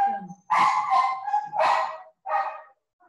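A dog lets out four short, close, high yapping barks in quick bursts, separated by brief silences.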